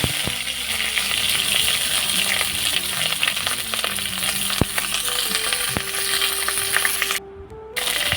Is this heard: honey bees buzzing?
no